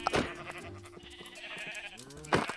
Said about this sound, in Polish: Czyli owce są